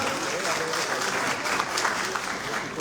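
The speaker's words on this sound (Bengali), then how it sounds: "জোরে হাততালি এই কারণে প্লিজ।" A crowd applauds steadily at a film trailer launch event, a dense, continuous wash of clapping that holds at an even level throughout.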